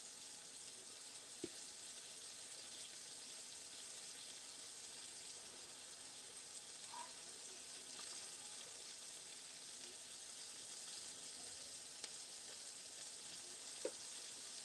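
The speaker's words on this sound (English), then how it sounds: "So I'm frying fish, frying whiting." Whiting fish fries in hot oil with a steady, faint sizzling hiss and a few scattered light pops, with no talking.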